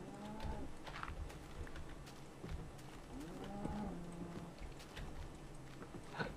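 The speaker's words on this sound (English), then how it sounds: "these cows are really annoying" Cows in Minecraft Tekkit let out low mooing calls, two drawn-out moos spaced a few seconds apart, fairly faint, over a soft background with scattered light clicks.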